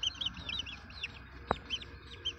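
Aseel chicks peep over and over in thin, high chirps at low volume, with one sharp click partway through.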